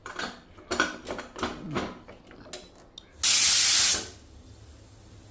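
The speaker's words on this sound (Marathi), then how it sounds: "कुकरचं झाकण लावून मध्यम आचेवर फक्त एकच शिट्टी काढायची आहे" A pressure cooker on medium heat, cooking barnyard millet khichdi, lets out one loud, steady rush of venting steam lasting under a second, after a run of light metallic kitchen clatter.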